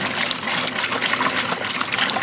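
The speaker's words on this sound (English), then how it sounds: "just pour in the remainder of the hot water that we had started with" Hot water is poured into a bucket holding washing soda for homemade laundry soap, a steady, dense gushing splash that continues without a break and with no talk.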